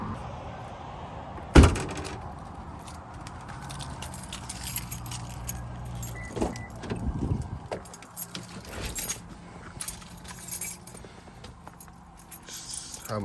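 Car keys jangle close by during car cleaning, a metal key ring without a push-button fob, with a sharp rattle near the start and lighter clinks afterward over faint background noise.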